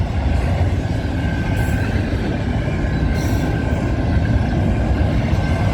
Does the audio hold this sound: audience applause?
no